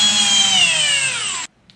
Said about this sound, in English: if I spin the speedo drive in the drill